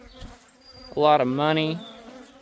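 Bees buzz around a homemade beehive built from trash, a close droning hum swelling suddenly under brief speech and holding steady for about a second.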